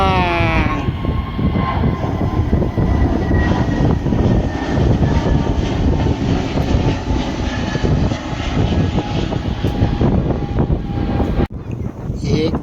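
An airplane passes overhead near a coastal creek, its loud continuous engine roar swelling and holding steady for most of the clip, alone without speech.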